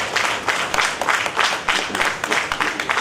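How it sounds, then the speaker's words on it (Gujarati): An audience breaks into rhythmic applause at a speech event, dense clapping swelling in regular bursts, loud and sustained with no talking over it. "તાળીઓનો ગડગડાટ આજે આપણે રોકાવાનો જોઈએ."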